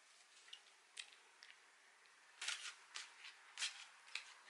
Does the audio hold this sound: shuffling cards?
yes